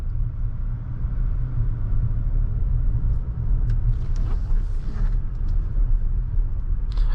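A 2024 Acura MDX SH-AWD rolls along a road, giving a steady low cabin rumble of engine and tyres with faint ticks and rattles above it, no talk.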